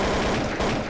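Dense, loud gunfire in the game Trouble in Terrorist Town: a continuous rapid volley that fills the whole moment.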